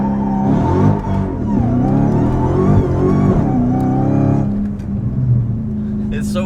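A 2016 Dodge Charger SRT Hellcat engine revving sharply with instant throttle response, rising and falling in pitch before settling back to a lower drone, heard from nearby with people talking.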